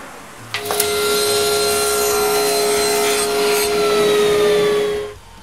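A wooden interior separator for a hair dresser organizer is cut by hand saw in steady, close rasping strokes that run for several seconds, then the sawing stops.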